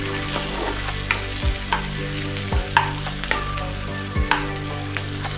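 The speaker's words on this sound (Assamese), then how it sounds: "এতিয়া মই ইয়াতে পিঁয়াজ ভাজিব ষ্টাৰ্ট কৰিলোঁ।" Onions fry in a pan with a steady close sizzle, interrupted every second or so by the scrape and clink of stirring, with no voices.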